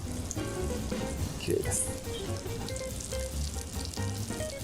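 A hamburger patty fries in a pan just after being flipped, crackling and sizzling steadily and close, with a voice speaking briefly over it.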